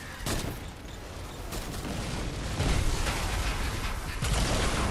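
Propane tanks explode in Fortnite Save the World, a burst of loud booms and crackling blasts, several sharp impacts piling up over a dense rumbling mix of game effects.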